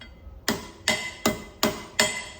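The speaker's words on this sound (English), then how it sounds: "So using the setting down hammer, I'm going to tack this" A setting down hammer tacks a metal crimp seam with five sharp, ringing metallic strikes, evenly spaced and close, each decaying quickly.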